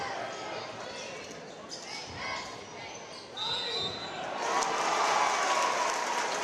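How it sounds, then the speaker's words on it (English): Fans clap and cheer in a gym after a basket at a Mayors Cup basketball game, a broad crowd wash that swells louder toward the end, with basketball bounces and squeaks under an announcer's voice. "Indian fans applaud for that"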